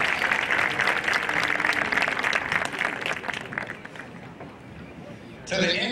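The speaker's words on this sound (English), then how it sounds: "Again, let's give them a round of applause." A crowd at a university commencement ceremony applauds with dense, sustained clapping that gradually tapers off, and a voice briefly cuts in at the end.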